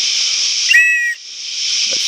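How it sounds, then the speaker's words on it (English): A survival kit whistle gives one sharp, shrill blast of about half a second, close and loud, over a steady hiss in the background. "We've got the whistle"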